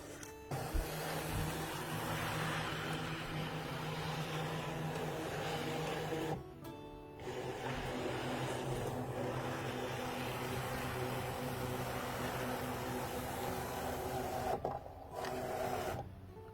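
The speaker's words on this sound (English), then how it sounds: "We're going to scan in our fabric, and we're going to say start." Brother ScanNCut SDX1200 scanning fabric, a continuous mechanical whir and hum with two brief pauses, steady and close with no talk.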